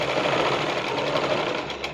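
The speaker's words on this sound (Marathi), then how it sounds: "त्याच्यावर शिलाई मारायची." A sewing machine stitches tucks into a blouse, its needle running in a steady, rapid mechanical chatter that holds at an even pace for the whole stretch.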